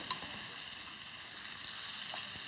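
Lamb, sausage and white bean stew with garlic and rosemary sizzles steadily in a pot while it is stirred. The hiss is constant and fairly quiet, with no voices.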